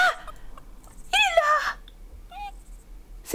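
Chickens and roosters in a farm video game, short clucks and squawks in quick bursts, clear and close against a quiet background.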